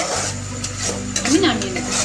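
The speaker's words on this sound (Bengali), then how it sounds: "দেখুন আস্তে আস্তে চাটনিটা ঘন হয়ে আসছে।" Sugar-sweetened chutney thickening in a pan, stirred with a spoon that scrapes and taps steadily against the metal over a soft bubbling sizzle, close up with no voices.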